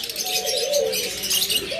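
A pair of albino red-eye pigeons gives soft, low cooing with light chirps, close and steady throughout, no talk over it.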